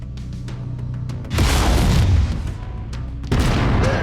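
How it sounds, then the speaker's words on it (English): Mech weapon fire aimed at an enemy cockpit in the Mechwarrior 5 Mercenaries game: heavy booming shots burst out over a steady low engine rumble, with a second loud volley near the end. "Go ahead and try shooting the cockpit."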